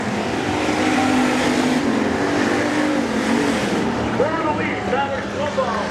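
Hobby stock race cars roar around the oval at Nobles County Speedway, engines droning steadily and loudly throughout while a commentator speaks over the racing.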